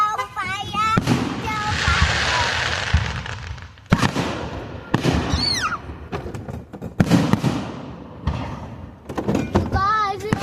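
Fireworks bursting in an outdoor display in Ohio: repeated loud booms and crackles arrive in irregular volleys, with whistling rockets rising between blasts and people talking and exclaiming nearby throughout.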